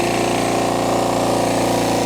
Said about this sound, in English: power tools like this pancake air compressor